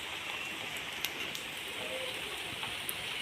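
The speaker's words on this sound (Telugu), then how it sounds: "చూడండి ఎట్లా పడుతుందో, మస్తు పడుతుంది వర్షం అయితే." Heavy rain falls in a steady, dense hiss, with a few sharper drips landing close by.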